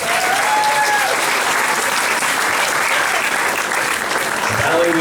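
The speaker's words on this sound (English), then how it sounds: "How about a round of applause for Bride Sisters?" Wedding guests applaud the bride's sisters after a toast, a dense, steady clapping from a full room that carries on for several seconds, with faint voices mixed in.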